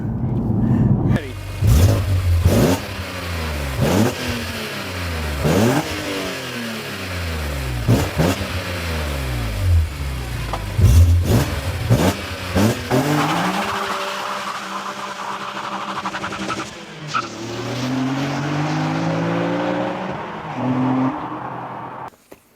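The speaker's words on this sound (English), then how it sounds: "Airbox sounds good, huh? That sounds proper." A BMW Z4 M Coupe engine with a CSL carbon airbox revs hard again and again, rising and falling with a throaty intake roar, loud and close, with people talking over it.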